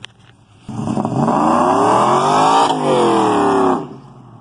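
An LSA supercharged Chevrolet Tahoe accelerates hard from a rolling start, its engine and supercharger rising loud and close for about three seconds before backing off.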